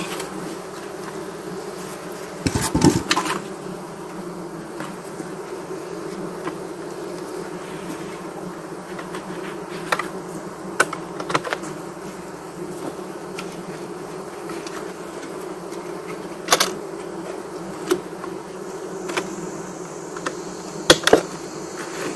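A honeybee colony buzzes steadily at its hive, a dense close hum that carries throughout, broken by a few sharp knocks and clicks.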